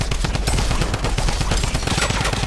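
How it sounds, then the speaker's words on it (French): Dense, rapid automatic gunfire from a Fortnite Save the World horde assault match, continuous overlapping shots firing loud and close throughout with no pauses. "Je tire un peu n'importe où"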